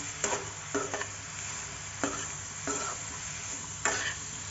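Two spoons of oil with cumin seeds stirred in a pan for tomato chutney, a steady soft sizzle broken by repeated spoon scrapes at a slow, uneven rhythm.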